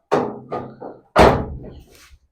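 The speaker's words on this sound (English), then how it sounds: "Come out of here, shut this door." A car door on a Vauxhall Astra Mk2 GTE 2.0L 16V under restoration slams shut with one loud, close thud. A few softer knocks and rattles come just before it, and faint clatter follows.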